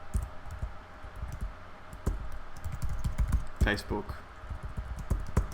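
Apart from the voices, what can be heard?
typing on a computer keyboard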